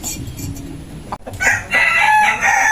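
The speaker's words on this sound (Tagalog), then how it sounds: "ito pa po yung iba pong manok" Tethered native chickens are heard nearby, and a native rooster lets out a loud, strained crow in the second half, with another bird calling faintly earlier.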